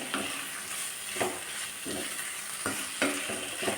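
Tomatoes and onions sauté in a pan for chana masala, a soft steady sizzle broken by repeated scraping stirs of a spoon, close and moderately quiet, without speech.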